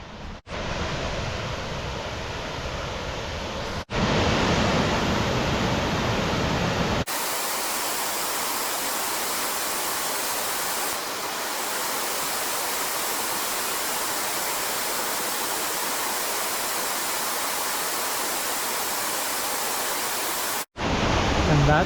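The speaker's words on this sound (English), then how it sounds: "And that's Clear Waterfall." Clear Waterfall, a roadside waterfall along State Route 138, as a steady, loud broadband rush of falling water that fills the clip from start to end, with brief shifts in level near the start and finish.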